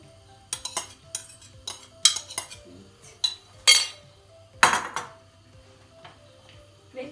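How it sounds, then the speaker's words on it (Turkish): Spoon scraping and clinking against a pot while stirring a cocoa ice cream mixture in milk on the stove, irregular close strokes and taps over a low hum, no talking. "Dondurmamız kaynamaya başladı ve sürekli karıştıralım."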